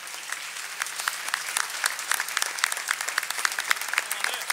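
At the Telde Canta en Navidad Christmas concert, an audience claps for the performers, a lively, moderately loud stream of individual hand claps with distinct sharp strikes throughout.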